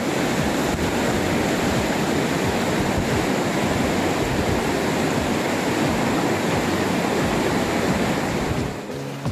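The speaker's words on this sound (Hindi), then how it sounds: "ट्रैक पर मुसलसल दरिया की आवाज आपके साथ रहती है।" River water rushes continuously beside a mountain trail, a loud, steady broadband roar with wind noise mixed in and no break.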